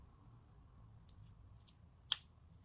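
Scissors cut through a T-shirt in a quiet room, giving a few soft snips followed by one louder, crisp closing snip near the end.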